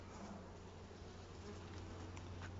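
Honeybees in an opened hive during an autumn inspection, a faint, continuous buzzing hum with a low steady drone beneath it and no talking.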